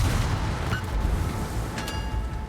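Naval gunfire in the World of Warships video game, with dense low booms and rumbling battle noise filling the scene and a couple of sharper cracks standing out over the din.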